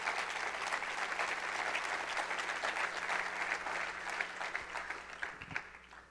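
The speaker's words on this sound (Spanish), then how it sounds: "Pues darle un aplauso a ese buen Dios que nos ama." A church congregation applauds after a sermon, a dense, steady wash of many hands clapping at moderate distance, continuous throughout with a few sharper claps near the end.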